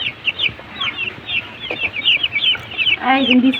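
Several chickens cluck and chirp close by in quick, irregular bursts, with a louder squawk toward the end.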